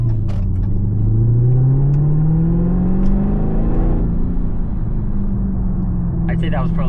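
A 2023 Dodge Charger Hellcat V8 accelerates at half throttle on a cold road with cold tires. Its loud, close engine roar climbs steadily in pitch for several seconds, then levels off into a sustained rumble.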